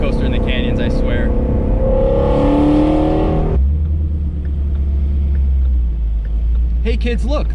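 A wide-body Shelby GT350 with a Kooks exhaust accelerates on a canyon road, its engine note rising before settling into a deep, loud rumble, heard from inside the car with people talking over it.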